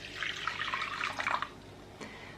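Warm water (250 ml) pours briefly into a container with a bubbling, splashing trickle for about a second and a half, then a faint drip.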